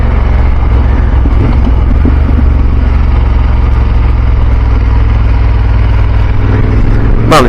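BMW F850GS motorcycle ridden along a trail in France, a loud continuous low engine drone with heavy wind rumble on the microphone, steady throughout with no talk.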